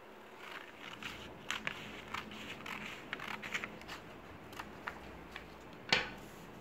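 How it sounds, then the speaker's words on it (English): Scissors snip through paper strips for a small handmade notebook, a string of short crisp cuts in uneven rhythm, close and fairly quiet, ending with one sharper snip. "Now we're going to cut the strips."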